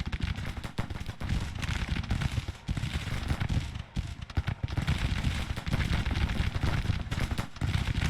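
Civil War artillery and gunfire in Grand Tactician: The Civil War form a loud, dense barrage of overlapping booms and cracks that rolls on almost without pause, with a couple of brief dips.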